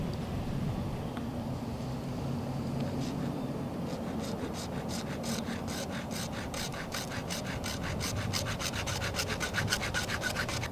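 A hand file cuts grooves into the end of a PVC pipe bowfishing bow with steady, rhythmic rasping strokes that grow more regular partway through, close and alone with no talk.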